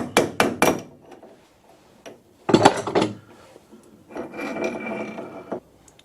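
Wood lathe spindle struck from behind to knock it out: a quick series of three sharp metallic hammer blows, then a louder single knock with a clattering ring, followed by a longer scraping rattle as the spindle slides free, close and with no talking.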